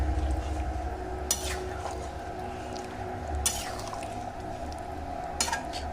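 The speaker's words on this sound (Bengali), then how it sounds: "আর বাকি টক দইটা মানে আরও 100 গ্রাম টক দই আমি এর মধ্যে দিয়ে এটাকে নাড়াচাড়া করছি" Chicken mixed with sour yogurt gets stirred in a cooking pot over low heat, soft wet scraping under a low steady hum, with three sharper clinks of the utensil against the pot spaced a couple of seconds apart.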